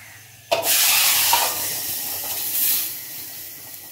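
Asafoetida, curry leaves and turmeric hit hot oil with a sudden loud sizzle that holds as a steady, hissing fry, swelling again briefly toward the end.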